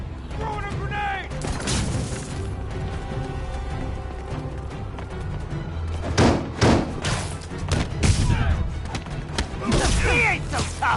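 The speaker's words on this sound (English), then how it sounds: "Throwing a grenade!" A grenade thrown in a PS4 shooter lands and detonates in heavy thuds and bursts amid scattered game gunfire, with players' voices calling out over the noisy battle.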